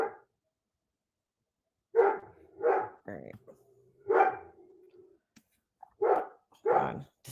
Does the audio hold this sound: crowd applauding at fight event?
no